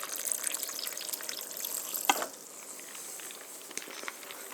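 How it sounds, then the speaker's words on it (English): Water splashing and trickling steadily into a glass for iced cola for a couple of seconds, then a quieter fizzing patter continues. "just gotta fill up with some water"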